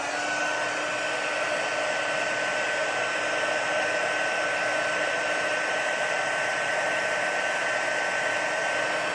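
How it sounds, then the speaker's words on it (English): Craft heat tool blowing steadily while it melts embossing powder on a paper leaf, a continuous close whooshing hum with a faint whine and no pauses. "we're going to heat set that leaf"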